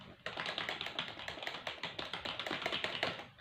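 Rapid typing on a computer keyboard, a quick uneven run of close, light key taps that continues without a break.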